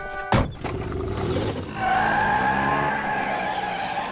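A cartoon car skids with a loud, sustained tire screech after a brief sharp impact, the squeal holding steady to the end over a rumbling engine.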